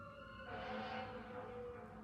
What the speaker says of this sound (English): I'm hearing ambulances or fire or sirens outside.